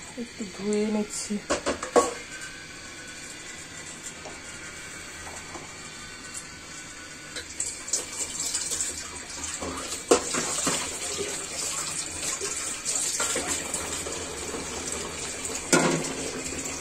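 Tap water runs over a cooking pot being rinsed in a kitchen, steady splashing with intermittent clanks and sloshes, moderately close, with some talking now and then.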